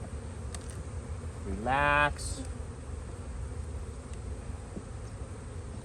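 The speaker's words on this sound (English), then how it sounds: "A pretty full brood box, right? A lot of bees" Honey bees hum steadily in a crowded, open brood box during a spring hive inspection, a dense close buzz that runs throughout while a person speaks briefly over it.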